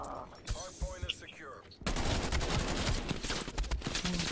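Krig 6 rifle gunfire in Black Ops Cold War crackles as dense, rapid automatic bursts that start abruptly and continue loudly, preceded by quieter game effects and a player talking.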